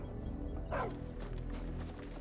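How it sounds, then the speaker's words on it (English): A dog in the video game Final Fantasy XVI gives a single short bark, fairly close, set against steady in-game ambience and a low background hum. "No, that's just a dog."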